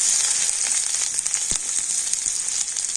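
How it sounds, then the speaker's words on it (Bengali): Whole cumin seeds and onion frying in mustard oil in a kadai, a loud, dense hiss and crackle that stays close and steady, with a few sharp pops and light utensil knocks. "এখন আমি তেলের উপর দিয়ে দেবো গোটা জিরে আর দিয়ে দিচ্ছি পেঁয়াজ"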